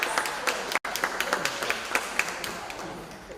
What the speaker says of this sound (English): So let's applaud those Zone 3 schools.